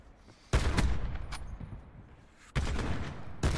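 Video game gunfire, with loud booming shots arriving in three bursts over a few seconds, each a heavy, close blast that tails off.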